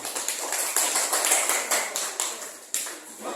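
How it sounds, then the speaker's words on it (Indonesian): A small classroom audience claps for the first presenting group, giving a short run of sharp, echoing claps at an uneven pace. "Silakan kasih aplaus untuk kelompok 1."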